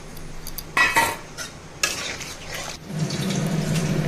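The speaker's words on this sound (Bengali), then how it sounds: "ঝোল দিয়ে দিয়েছি, এখন পনিরগুলো দিয়ে দেব" Paneer cubes tumble into curry gravy in a pan, followed by metal spoon scrapes and clinks while stirring, then a steady low bubbling simmer alone.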